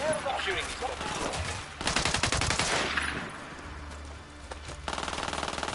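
Automatic rifle fire in the tactical shooter game Ghost Recon: rapid bursts crackle loudly up close, separated by brief pauses, with a player's voice talking between and over the shots.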